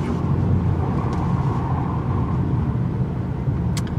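A 2018 Hyundai Elantra GT under hard acceleration, heard from inside as a steady loud engine and road rumble throughout, with no voices.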